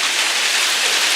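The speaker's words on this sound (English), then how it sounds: "Look at that hail." Hail pelting down in a storm in Springfield, Missouri, a steady dense hiss of ice striking surfaces, loud and continuous with no gaps.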